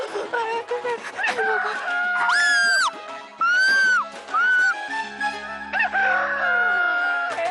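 A rooster crows loudly several times in drawn-out, rising calls, layered with music and other sounds in a busy mix from a Hindi TV drama.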